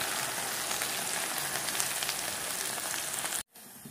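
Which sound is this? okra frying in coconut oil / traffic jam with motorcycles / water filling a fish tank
okra frying in coconut oil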